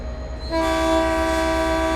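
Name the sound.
F40 locomotive starting to move, Train Sim World video game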